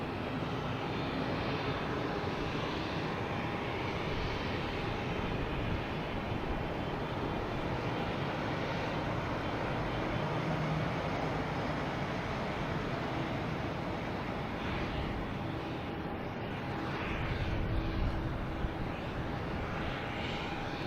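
An Airbus A320neo airliner arriving at Boston Logan airport from Keflavik, Iceland, gives a steady, broad jet roar that holds evenly throughout at moderate distance, with no voices.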